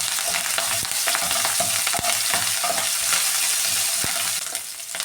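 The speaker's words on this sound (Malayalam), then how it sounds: "ഇനി ഇതിലേക്ക് കറിവേപ്പില ചേർത്ത് കൊടുക്കാമേ" Curry leaves sizzle and crackle as they are stirred into shallots frying in hot oil for a Kerala-style prawn roast, a steady close hiss with occasional spoon scrapes and pops.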